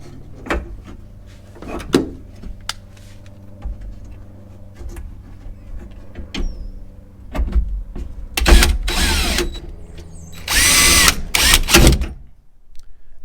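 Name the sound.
power tool driving T30 screws on Toyota Tundra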